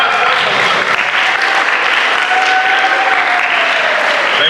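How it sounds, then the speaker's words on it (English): A college audience gives a steady burst of applause for presenters from Zenith Bank, loud continuous clapping with crowd murmur and a faint whistle-like tone. "Let's put our hands together for them."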